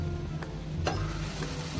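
Vegetables and masala fry in a pan for a restaurant-style vegetable biryani, a steady close sizzle with a couple of soft scraping stir sounds breaking through.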